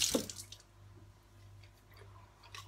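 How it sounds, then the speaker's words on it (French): Water sloshes and splashes as a person rinses their mouth, with a burst of gurgling at the start followed by quieter wet sounds and faint drips, close and soft against a low steady hum. "je me rince la bouche"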